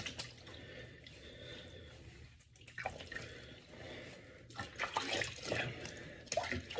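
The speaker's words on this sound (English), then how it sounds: "Nice and warm water." Warm water runs steadily from a tap during a bath for a cat, a continuous splashing wash with brief quiet dips, while a person talks softly nearby.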